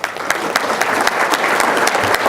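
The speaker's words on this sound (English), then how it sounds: "I'd like to definitely give you a round of applause" A seated audience at a program breaks into sustained applause for the VR team, a dense, even wash of many clapping hands with sharper individual claps standing out near and loud, and no talking over it.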